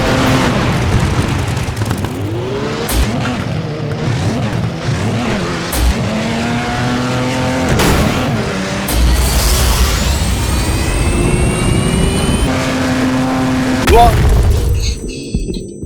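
Cars crash during a FlatOut 4 Total Insanity video game race. The sound is a loud, continuous mix of racing engines, tire squeals, skids and booming impacts, with pitch sweeps from revving motors.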